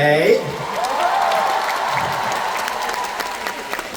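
A large concert audience applauds and cheers at a show, a dense, steady wash of clapping that swells after a brief voice at the start and carries on without a break.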